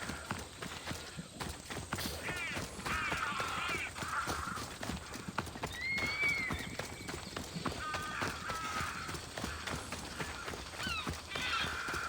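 Horse hooves clip-clopping in the video game Assassin's Creed Odyssey, a steady fairly faint trot with occasional whinnies and bird calls, under game music and ambience and mixed with speech.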